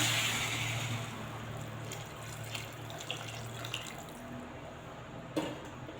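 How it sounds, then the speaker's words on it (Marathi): Heated water from a small vessel pours into a pot for masale bhaat, a soft steady splashing trickle that gradually thins, with a few faint clinks near the end. "इथे मी गरम करून घेतलेले एक तांब्या पाणी ओतून घेऊया आपण"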